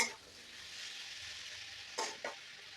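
Ground spices tipped into tomato frying in a pan for a cabbage curry with fish head, a steady close sizzle broken by two brief stirring scrapes near the end.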